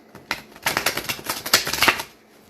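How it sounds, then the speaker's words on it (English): Tarot cards being given a quick shuffle by hand, a run of crisp riffling and flicking bursts lasting about two seconds, close and fairly quiet, with no talking over them. "I am just going to give them a quick shuffle"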